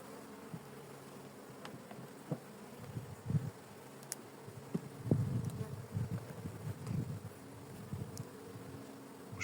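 Honey bees buzzing around an opened beehive, a soft continuous drone with individual insects flying close past now and then, no voices.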